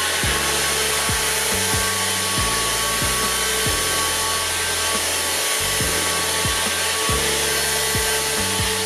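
An Easine F100 vacuum cleaner runs at full power, sucking up crumbled cake: a loud, steady motor whine and rush of air with intermittent clicks and thumps of debris.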